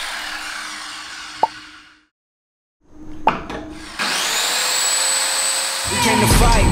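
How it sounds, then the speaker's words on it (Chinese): An electric saw used for the first time on a wooden board held in a woodworking clamp, during a rented-flat renovation: a few knocks and a pause, then the motor whines up steadily and bites into the wood, with voices briefly heard. "第一次用电锯哦，哦，这样晃是可以的吗？"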